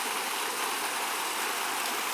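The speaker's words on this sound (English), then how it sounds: "Might be a nice waterfall if you like waterfalls" A waterfall at an old dam or infrastructure site pours steadily, a continuous broad rushing hiss with no break and no voices.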